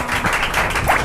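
A congregation claps loudly together at a Christian healing service, forming a dense, steady wash of applause from many hands that lasts about a second.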